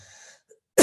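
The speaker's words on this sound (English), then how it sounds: "Sorry to cough in your microphone." One sharp, close cough into a microphone bursts out at the very end, after a near-silent pause.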